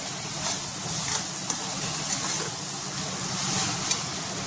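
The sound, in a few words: onion, chilli and garlic frying in a pan for pithla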